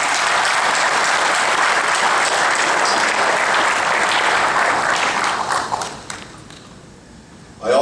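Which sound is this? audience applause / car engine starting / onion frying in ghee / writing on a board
audience applause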